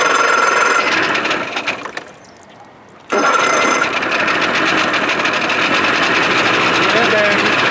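A 1987 70 hp Johnson outboard engine cold-starts, a loud close buzzing rattle that drops away briefly, then catches and runs on with a steady, slightly uneven drone.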